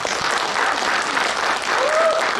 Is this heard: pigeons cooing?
no